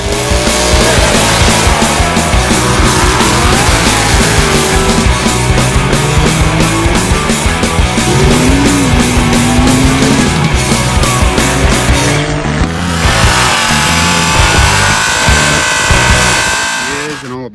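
A loud 7.3 turbo diesel truck engine roars and revs continuously, its pitch rising and falling as it accelerates, with a whistling turbo and a shift near the end.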